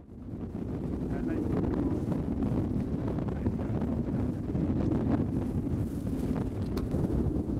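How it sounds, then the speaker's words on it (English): Strong wind above 40 knots roars and buffets across the microphone aboard a sailboat in storm conditions, a loud, continuous low rumble with gusty fluctuations and no clear talking. "Blowing over 40 knots now."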